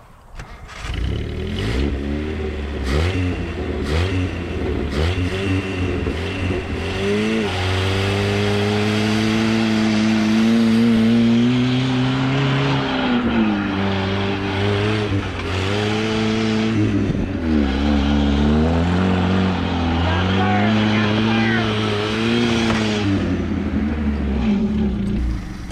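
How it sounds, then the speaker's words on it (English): Engine of an abandoned 1980 Datsun 720 truck revving repeatedly, rising and falling through several loud climbs, then a second-gear clutch dump with strong acceleration, close and continuous without talk. "Old Clyde Smith likes to test the clutch with a second gear dump."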